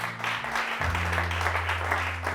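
A church congregation applauding together during a Sunday service, with continuous dense clapping alongside a low sustained musical drone.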